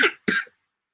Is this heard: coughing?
yes